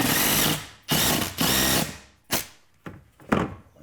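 Power drill driving screws into wooden 2x4 wall studs for a workbench frame, several short whirring bursts of varying length separated by pauses, close and loud.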